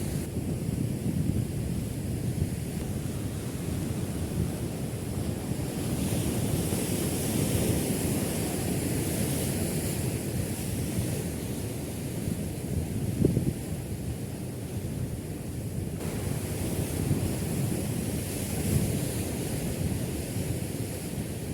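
Sea waves wash steadily against a rocky shore where someone is fishing, a constant rushing surf with gusty wind buffeting the microphone throughout and no voices.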